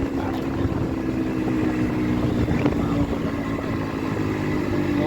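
A Yamaha RX100 motorcycle engine drones steadily while riding, a continuous low hum with wind rush, close and even throughout.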